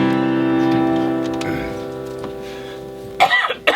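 Sustained musical notes at a coffeehouse performance fade out, then a man coughs loudly and closely in a few rough bursts at the end of the song.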